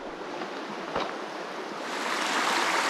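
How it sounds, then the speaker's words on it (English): The Jarbidge River streams past a campsite with a steady broadband rush, growing slightly louder toward the end, with a brief bump of wind or handling partway through. "We found a nice spot right here along the Jarbidge River."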